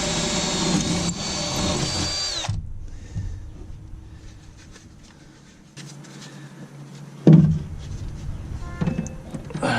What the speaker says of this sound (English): tight spaces angle drill really helps.